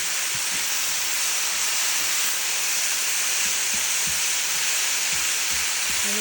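Loud, constant sizzling hiss of chicken and vegetables stir-frying in a hot pan, with occasional faint clicks and scrapes beneath it.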